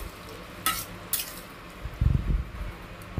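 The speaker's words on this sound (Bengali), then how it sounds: "এর সঙ্গে টমেটো দিয়ে দিলাম, দিয়ে ভালো করে একটু নাড়াচাড়া করে নিচ্ছি" Tomatoes stirred into capsicum and onion in a pan for an egg do-peyaji: two short, sharp spoon clinks, then a soft burst of squishy stirring over a faint, steady sizzle.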